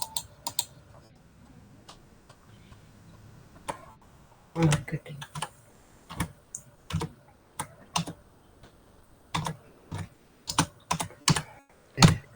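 Scattered keystrokes and short typing bursts on a computer keyboard while setting up a Google remarketing tag, close and crisp, with pauses between clusters; a person speaks briefly.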